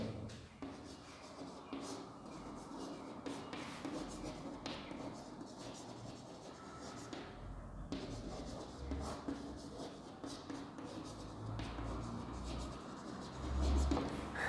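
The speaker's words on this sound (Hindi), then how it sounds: "इसी सेंटेंस को मैं लिख रहा हूँ" A sentence is written on a board, making faint, continuous scratchy strokes and rubbing with short pauses between words over a quiet background.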